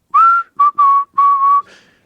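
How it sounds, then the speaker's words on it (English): A man whistles a short closing melody at the end of a song, four clear sustained phrases, close and loud with nothing else around them. "So at the very end of the song, I would, whistle."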